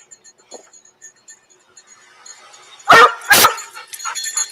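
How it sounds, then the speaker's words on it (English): A dog gives two loud, close barks in quick succession after faint background noise, followed by softer rustling and whimpering sounds. "I got the dog with me now"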